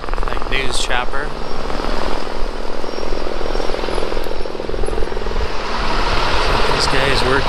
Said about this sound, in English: News chopper.